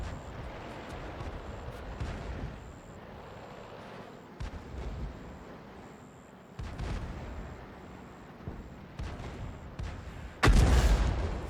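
Artillery from a 105 leFH18B2 self-propelled gun in World of Tanks, with scattered distant booms and thuds over battlefield ambience and a sudden loud blast near the end.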